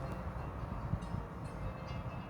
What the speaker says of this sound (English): I'm currently at Milton Keynes Station, waiting for a train